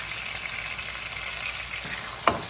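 A steady sizzle of tomato paste frying in a pan for a creamy shrimp orzo, with a single sharp spoon clack near the end as the paste is mixed in.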